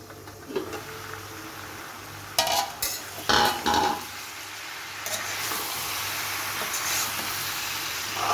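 Pumpkin pieces fry softly in a pan under a steady low hiss, broken by a few short, louder bursts of scraping and clatter as a utensil stirs them.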